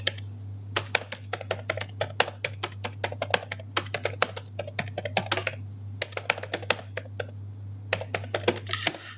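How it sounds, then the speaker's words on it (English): Fingers type on a computer keyboard in quick irregular bursts of close, crisp clicks with short pauses, over a steady low hum and with no voices. "Okay, let's just type something here."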